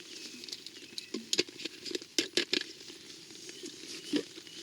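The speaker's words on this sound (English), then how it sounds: "as it's raining at the moment" Rain patters on a French infantry tent, with irregular soft taps and a few sharper close drops against a steady light wash, no voices.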